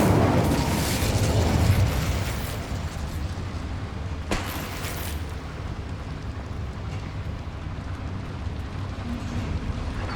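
An Incendio fire spell cast in Hogwarts Legacy, set in a small mine: a loud roaring, crackling burst of flame at the start, a sharp flare around four seconds, then a steady rushing hiss of fire that carries on to the end.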